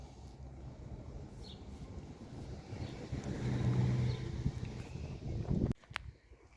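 Gusty wind buffets the microphone in a low, rumbling roar that swells and fades, ending in a few abrupt knocks and a sudden drop.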